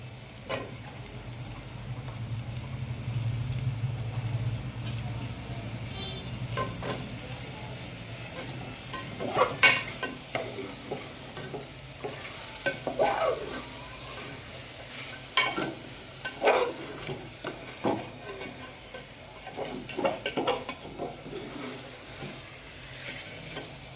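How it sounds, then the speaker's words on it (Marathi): Finely cut carrots sizzling in a pan for a Gudi Padwa thali, a steady low frying hiss with occasional stirring scrapes and clatters, close and moderately quiet with no talking. "गाजर घालतोय आपण बारीक कट केलेले।"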